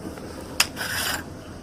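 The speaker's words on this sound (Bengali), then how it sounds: "এই রসুন আদা এটা আমি বেটে নেব" Garlic and ginger are ground into paste by hand on a grinding stone, giving a short close rasping scrape with a sharp click partway through.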